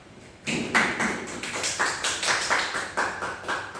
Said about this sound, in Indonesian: Berikan tepuk tangan untuk Christina.